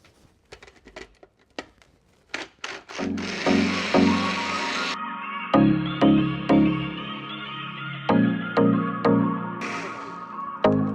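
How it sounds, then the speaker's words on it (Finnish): A blender whirs as it purees tomatoes into a smooth sauce: a few sharp knocks first, then a loud, steady motor hum with rhythmic surges as the contents churn, ending with a brief burst near the end. "Eli kaikki vaan blenderi ja sitten surautetaan tasaiseksi."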